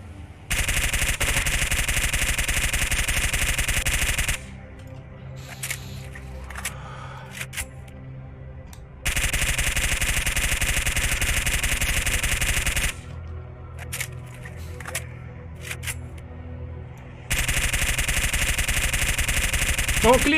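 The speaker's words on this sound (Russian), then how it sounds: "Сейчас как назло, короче, она отстреляет все патроны без проблем" An automatic rifle in a video game fires rapid shots in single-shot mode. The gunfire is loud and comes in three long, dense stretches, with quieter game ambience and faint voices in the gaps between them.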